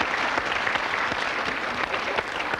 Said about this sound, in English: Mark, you're very quick at the clapping there.